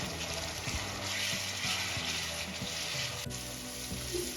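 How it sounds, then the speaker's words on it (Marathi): A steady sizzle and hiss of water added to a frying spice mix in a hot pan, with a faint clank of metal partway through. "आता यामध्ये दोन चम्मच पाणी ऍड करणार आहे मी"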